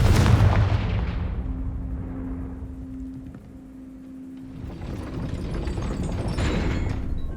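A Confringo fire-blast spell cast in Hogwarts Legacy opens with a loud explosive boom. A sustained ringing tone and dull rumble follow, then a broad whooshing swell builds toward the end, with no talk.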